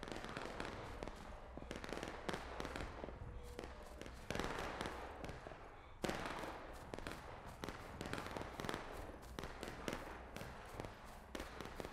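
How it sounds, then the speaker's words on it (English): Musket volleys in the Civil War game War of Rights, dense crackling shots popping continuously and overlapping at varied distances, a sharp burst near the middle, with occasional faint voices. "Independent fire northwest into the woods."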